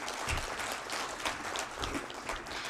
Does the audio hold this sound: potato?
no